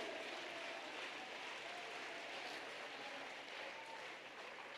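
A church congregation at a jubilee service claps hands together, a steady, fairly faint blur of clapping that holds evenly throughout with no voice over it.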